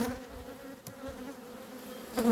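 Honey bees buzz steadily at an unusual, non-standard wooden beehive after overwintering, a dense continuous drone close by that swells louder at the end.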